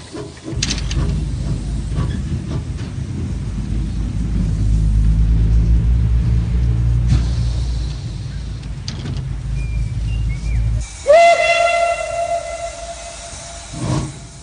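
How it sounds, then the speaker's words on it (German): The 150 PS forest railway locomotive 764-405 shunting: a deep engine rumble builds and holds for several seconds, then drops away before a sharp squealing hiss and metallic screech near the end. "Die 150 PS starke 764-405 kann mit dem Rangieren beginnen."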